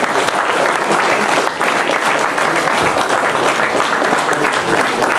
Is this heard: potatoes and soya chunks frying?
no